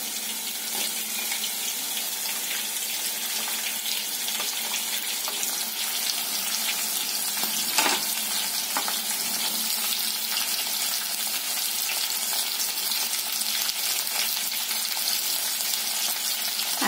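Onions frying in oil in a pan for Telangana-style rasam, a loud continuous hissing sizzle that holds steady throughout, close up, with no talking.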